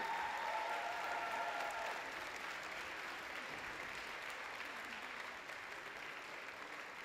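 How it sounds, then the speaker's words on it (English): Audience at an infant school dance show breaks into a sustained round of applause, loud and dense from the start, easing slightly as it goes on, with a faint musical tone under the opening seconds. "big round of applause, St."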